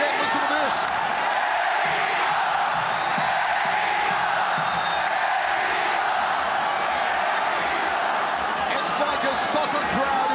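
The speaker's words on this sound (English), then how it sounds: "Here come the chants again. Listen to this." Crowd at a mixed martial arts fight event with a Filipino fighter, a loud, sustained roar of rhythmic chanting and cheering filling the arena throughout.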